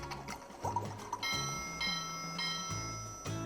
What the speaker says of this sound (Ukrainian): Штурвал і годинник біля Ноя рухається. Штурвал видає різні звуки.